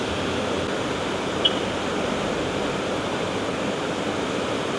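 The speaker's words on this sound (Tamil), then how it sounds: "இங்கே ஒரு மிகப்பெரிய வாட்டர் ஃபால் இருக்குது. இந்த ஃப்ளோ மட்டும் பாருங்கள் எப்படி இருக்குது அப்படின்னு." A large waterfall in Sri Lanka during monsoon season, swollen with rainwater, gives a steady, dense roar of rushing water that stays even and continuous throughout, with no talking.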